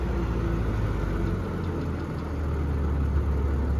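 Bobcat 853 skid steer with a brush hog attached, its engine throttled down to a steady, smooth mid-pitched idle. The rumble is close and continuous and carries no speech.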